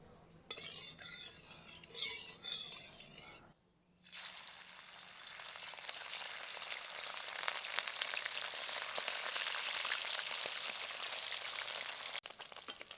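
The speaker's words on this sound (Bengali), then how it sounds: "কড়াইটাকে খুব ভালো করে গরম করে নিয়েছি এবার মাছগুলো দিয়ে ভেজে নেবো" After a brief pause, a loud, continuous sizzle of fish frying in hot oil in a wok takes over, with occasional faint clinks of a utensil.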